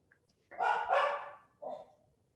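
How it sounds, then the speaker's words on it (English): A dog barks in the background of an online academic conference call: two quick barks run together, then a softer third bark after a short pause, with no talking. "You've got the dog."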